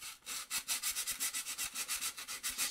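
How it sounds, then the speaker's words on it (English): Sandpaper rubs back and forth on a high power rocket part in quick, even strokes, about three or four per second, close and alone with no voices. "Hopefully it's not just all sanding noises now."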